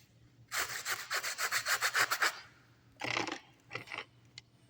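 An old, 25-year-old paintbrush scrapes across a painting surface in a quick run of about a dozen rhythmic, rasping strokes, then a few slower, separate scrapes, close and fairly quiet with no talking.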